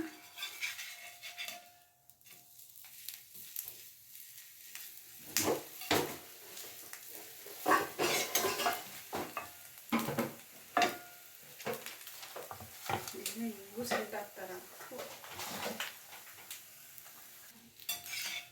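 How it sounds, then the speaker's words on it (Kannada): Akki rotti, a rice flatbread, roasts on a pan with a soft sizzle, broken by scrapes and clatter as it is turned, close and intermittent over nearly twenty seconds. "ನೋಡ್ಬೋದು ರೊಟ್ಟಿ ಚೆನ್ನಾಗೆ ಬೇಯ್ತಿದೆ"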